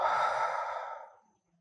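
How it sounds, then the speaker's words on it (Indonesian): A long, breathy exhale through the mouth during an advanced Surya Namaskar yoga sequence, strong at first and then fading gradually to quiet over about a second and a half. "Saat menghembuskan dari mulut"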